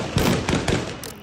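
Live gunfire aimed at protesters during street demonstrations, a rapid volley of sharp, loud cracks and bangs in quick succession at fairly close range.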